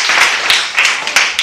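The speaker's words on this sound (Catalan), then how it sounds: "Per favor, un aplaudiment per a ells dos." Applause breaks out at a workshop, a dense burst of many hands clapping close by, steady and loud with a few sharper surges throughout.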